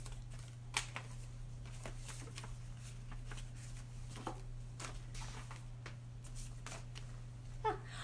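Cards and envelopes shuffled and flicked through by hand, a string of soft papery rustles and light slaps at close range over a low steady hum, without speech.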